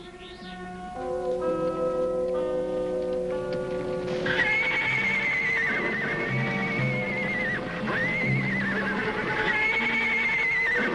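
Ponies in a ranch corral whinny and neigh in long, clear calls, with several overlapping horse voices close by and a soft patter of hooves beneath.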